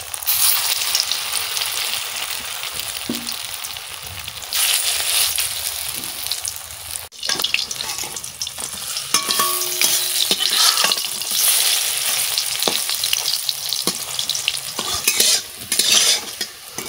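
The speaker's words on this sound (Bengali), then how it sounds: "এবার মাছের বড়া দিয়ে দিচ্ছি।" Fish fritters frying in oil, a loud, dense crackling sizzle that runs throughout, with utensil scrapes and clinks as they are moved about the pan.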